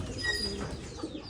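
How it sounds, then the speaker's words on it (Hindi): Pigeons coo softly in a short, quiet burst of low, throaty calls against faint background noise. "अभी आपको दिखाता हूँ खूबसूरत खूबसूरत कबूतर"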